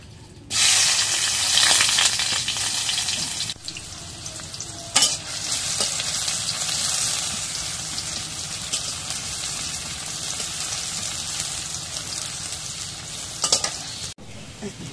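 Onions dropped into hot oil in a wok, a loud sustained sizzle that bursts in and holds steady for over ten seconds, with a few stirring knocks and a faint fading tail, no talk.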